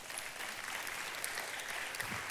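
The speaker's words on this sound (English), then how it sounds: "you can applaud for that" A church audience applauds, a steady wash of many hands clapping at moderate volume that holds evenly for a couple of seconds with no voices on top.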